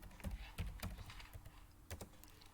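Typing on a computer keyboard while writing a Java program, a close, quiet, irregular patter of key clicks with a few sharper strokes, no voice.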